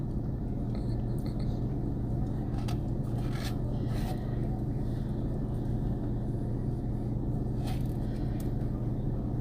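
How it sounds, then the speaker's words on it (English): Cars rushing fast past on a road heard from nearby, a steady roaring rumble with a few brief swooshes of passing vehicles standing out over the continuous traffic noise. "Some of those cars are just flying by"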